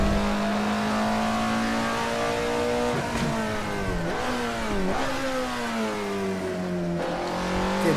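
A racing car engine in the Assetto Corsa driving game drones loud and steady throughout, its revs dipping and rising with several quick gear shifts, no voices over it.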